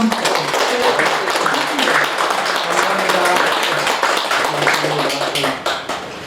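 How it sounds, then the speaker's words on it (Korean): A crowd at a Buddhist college lecture at Jogyesa temple applauds loudly and continuously, a dense wash of clapping with voices mixed in, tapering slightly at the end. "큰 박수 쳐주십시오."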